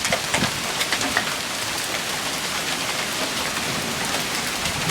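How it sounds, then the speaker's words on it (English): Hail pelting a car during a storm, a dense steady patter of hits on the bodywork that is loud and close, with no voices heard. "You hear the hail coming down?"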